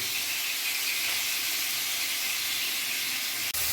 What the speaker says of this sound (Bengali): গরম হয়ে গেছে আমি এবার এক এক করে মাছকে ছেড়ে দেবো আর আমি এটা শ্যালো ফ্রাই করবো